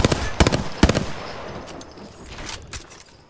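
Rapid machine-gun bursts in the Apex Legends video game, with several loud volleys early on that give way to scattered, fainter shots and a lingering rumble.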